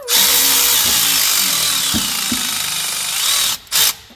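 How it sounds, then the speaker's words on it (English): A heavy 55-pound power ratchet runs on a car engine being pulled from a 2000 Trans Am, giving a loud, continuous, close mechanical rattle for several seconds, then a brief final burst. "This is a 55-pound ratchet."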